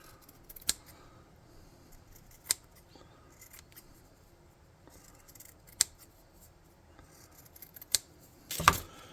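Scissors snipping material for a tall tabletop RPG miniature walker, a few sharp isolated cuts spaced a couple of seconds apart, ending in a louder rustle, close and quiet with no talk.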